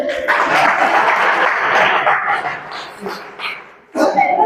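Audience applause at a Hindi-language poetry recital in Angika, a dense burst of clapping for about three seconds that fades, then rises again briefly at the end.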